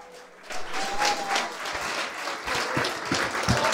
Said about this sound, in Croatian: Molim vas jedan veliki aplauz za Andreja Mihala.